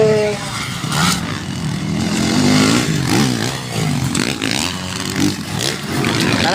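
Motocross motorcycles in a novice final heat at a competition in Maramag, Bukidnon, engines revving and wavering up and down close by, with people talking over the noise.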